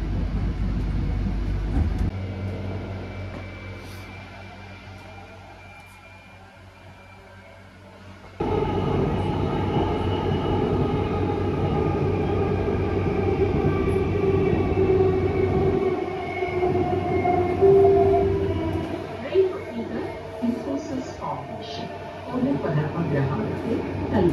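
A Bengaluru metro train runs between stations, heading toward Bommanahalli, with a steady rumble and hum that gets louder partway through and continues, and a recorded voice announcement plays over it.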